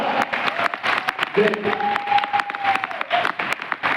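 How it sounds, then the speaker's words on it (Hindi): A crowd at a training program event in Lucknow claps in a dense burst of applause, a voice speaking loudly over it. "एक बार फिर से एक जोरदार ताली, जोरदार।"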